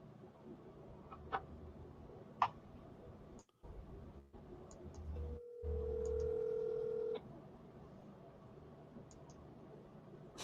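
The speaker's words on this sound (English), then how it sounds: "Your phone is calling you, Bill." A phone call being placed shows up as a single steady telephone ringback tone held for about two seconds over a low hum and faint background clicks.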